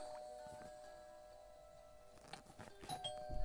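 Game doorbell chime in the Fishdom fish-tank puzzle game, a faint ding-dong with bright tonal notes over quiet background, followed by soft patters near the end.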